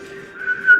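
A single clear whistle from a TV drama episode, a steady tone that rises slightly in pitch and swells louder toward the end, heard alone without talk.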